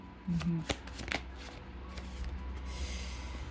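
Tarot cards being shuffled to draw a single card, a brisk riffle of papery flicks and taps that starts loud and close and then tapers to a soft continuing rustle.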